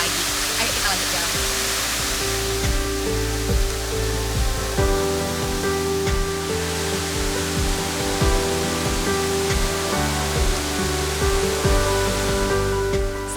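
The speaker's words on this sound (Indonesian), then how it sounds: "kita sampai juga di air terjun yang pertama" A waterfall on the Putri Kayangan trail in Kampar roars as a continuous, dense rush of falling water, loud and close, with faint voices beneath it.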